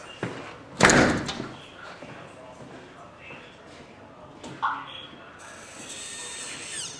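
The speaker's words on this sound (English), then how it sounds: "then it will lock the door if it's closed all the way, hopefully" A smart home door lock on a back door engaging: a loud mechanical clunk near the start, a smaller latch click a few seconds later, then a faint steady hum, with quiet room noise throughout.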